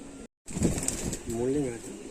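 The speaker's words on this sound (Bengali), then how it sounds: "এটা তোমার সারানপুরি কালদমা আছে" Saharanpuri Kaldom pigeons cooing softly at close range, a few low wavering coos after a brief silence, with wing rustles and voices talking over them.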